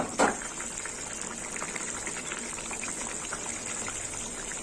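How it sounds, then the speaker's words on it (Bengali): Fish curry gravy bubbles at a steady simmer in a pot, a close continuous low burble with a brief clink near the start. "ঝোল ফুটে গেছে"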